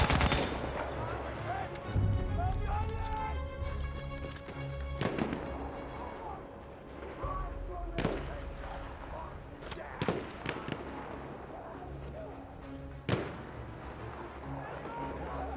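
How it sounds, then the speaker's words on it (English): Battlefield 1 game battle with an enemy artillery barrage: dense rumbling bombardment with sharp booming impacts around 5, 8, 10 and 13 seconds over continuous gunfire, and voices talking underneath. "Wait for the enemy artillery barrage to stop firing."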